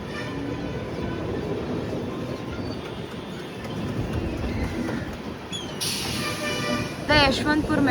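A passenger train pulls out of Yeshwantpur Junction on the Hubballi to Bengaluru superfast run, with a steady close rumble and clatter of wheels, a rising squeal near the end and voices in the background.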